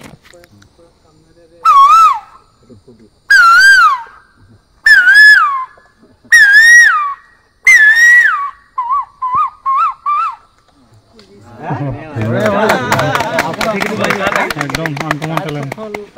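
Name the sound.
whistled imitation of koel bird call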